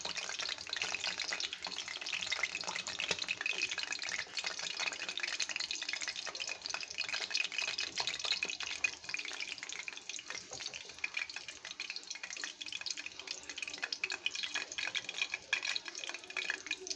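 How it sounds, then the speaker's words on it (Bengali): Egg-soaked bread slices for Bombay toast frying in hot oil, a continuous crackling sizzle with fine pops and spatters that holds steady at close range, with no voices. "দেখুন গাইস, বোম্বাই টোস্ট ভাজা হচ্ছে"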